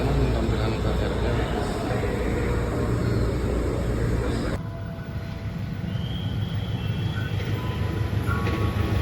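KRL commuter train in Indonesia, a continuous heavy rumbling rail roar with a steady low drone, loud and close, shifting in character partway through as the cars roll on.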